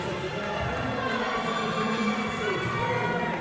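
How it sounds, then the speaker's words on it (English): Crowd cheering and shouting for a lifter at a deadlift during the USPA Drug Tested National Championships, a steady dense roar of many voices from the back of the crowd, sustained and fairly loud throughout. "cheering from the back of the crowd there for John."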